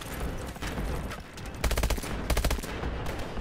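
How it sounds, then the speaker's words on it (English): Enemy gunfire in Call of Duty: Advanced Warfare, with bursts of rapid automatic shots crackling at mid distance, heaviest in two clusters in the second half over a steady background din. "Someone's shooting at you"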